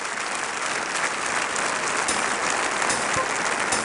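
Dense applause and cheering from a large crowd roar steadily, played back from a video as a continuous loud wash of clapping with no break.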